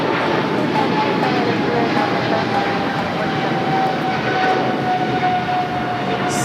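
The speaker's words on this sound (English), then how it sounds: "Singapore heading back to Tokyo Narita on the 777-300ER" Singapore Airlines Boeing 777-300ER jet engines at LAX, a loud continuous roar with a steady whining tone, close and unbroken throughout.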